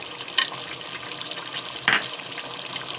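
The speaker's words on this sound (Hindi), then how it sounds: "ये मेरा गोश्त भून रहा है, साथ साथ ही मैं हरी मिर्च ऐड कर रही हूँ" Meat frying in a pan with green chillies, a close, steady crackling sizzle with a couple of brief louder spatters or stirring bursts, no talk.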